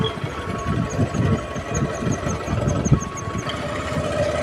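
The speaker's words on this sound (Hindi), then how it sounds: "फाइनली भाई गाड़ी स्टार्ट हो गई यार" A repaired motorbike engine runs steadily at idle, a close, continuous mechanical chug with a rapid knocking rhythm throughout, no talking.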